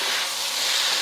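Beef sizzling in a hot pan with ginger and onions for a Cantonese dish: a loud, steady, close hiss of frying fills the whole moment without a break.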